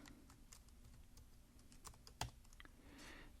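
Typing on a computer keyboard, a quiet scattered run of soft key clicks with one sharper tap, close and faint, with no talking.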